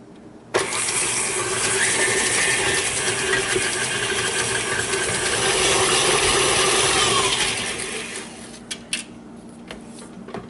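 An electric stand mixer creams butter and sugars for oatmeal cookies, its motor running as a loud, steady whir for about seven seconds before slowing and stopping with a few clinks.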